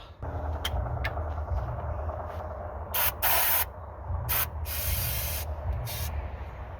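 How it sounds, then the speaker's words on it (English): Several short hissing bursts of aerosol spray into a carburetor over a low, steady engine-like rumble, close by. "spray some go juice down the carburetor"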